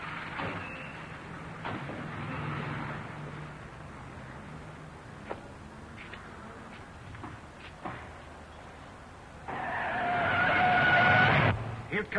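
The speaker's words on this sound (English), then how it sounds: "Here comes that same car." An old 1940s car drives by with tires skidding, the engine noise rising and falling before a loud, close surge of squealing rubber near the end.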